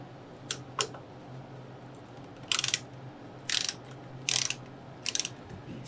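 A 3/8 ratchet works a fastener on a Harley: short bursts of crisp clicking, two quick ones, then four longer runs of rapid ratcheting, close and fairly quiet against a low hum.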